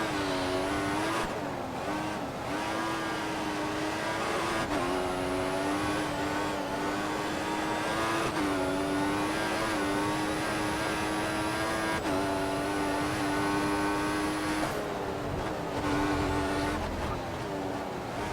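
Formula 1 race cars in the F1 2014 video game at the Japanese Grand Prix, a continuous high-pitched engine whine rising through gears with repeated upshifts, loud and steady, with commentary spoken over it.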